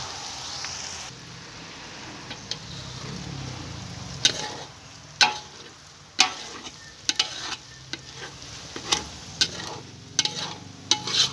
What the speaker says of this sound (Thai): ใส่ไฟอ่อนนะจ้าในการเจียว